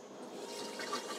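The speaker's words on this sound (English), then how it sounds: "You can hear the pump running, and the toilet bowl that I'm sitting on right now is filling up full of water." An Axopar 28 boat's toilet pump runs while the bowl fills with water, a faint, brief gurgling trickle nearby.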